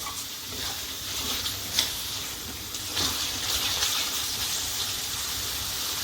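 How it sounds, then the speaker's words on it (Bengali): Spice paste for a soybean curry fries in a pan as it is stirred with a little water, giving a close, steady sizzle broken by scraping stirring strokes and brief wet splutters. "সামান্য জল দিয়ে দিয়ে নাড়তে হবে, নাহলে পুড়ে যেতে পারে মশলা।"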